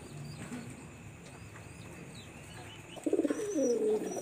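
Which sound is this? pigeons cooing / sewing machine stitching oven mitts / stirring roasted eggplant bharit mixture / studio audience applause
pigeons cooing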